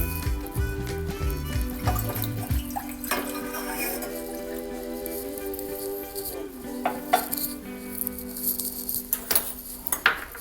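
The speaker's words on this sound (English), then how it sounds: "I'm going to add a mug of water into this." Water poured from a mug into a saucepan to start a sugar syrup for atta halwa, a steady splashing trickle with small clinks, heard close alongside faint tonal background sounds.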